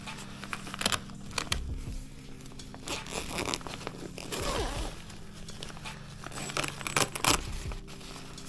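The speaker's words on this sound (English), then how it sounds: "So this zipper ends right..." Zipper on a TravelPro FlightCrew 5 Slim Expandable Rollaboard suitcase being opened in several short, scratchy pulls, close and fairly loud, with rustling handling noise between the runs.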